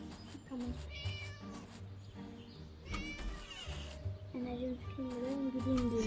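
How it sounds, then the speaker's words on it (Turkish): A cat meows repeatedly in the game Scary Teacher 3D, its cries rising and falling, mixed with soft voices and rustling nearby. "Sesi yaklaştı sanki kedinin."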